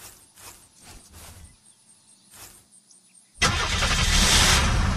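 Car engine in the video game Unturned cranking and catching, a few short mechanical sounds then a sudden loud, sustained roaring engine that starts partway through and holds steady to the end, close and with no talking.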